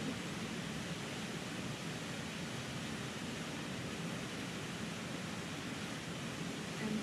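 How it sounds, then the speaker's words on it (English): Rushing water from a waterfall in the Catskills forms a steady, unbroken roar with no variation, soft and even in level, with no other sounds on top. "listen to the sound of rushing water"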